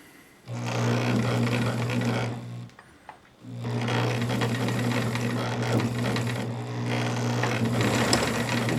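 A Bernina Record 830 sewing machine stitches a zippered pouch in two steady runs of its motor hum and needle rhythm, close and loud, with a short pause between them and no talking.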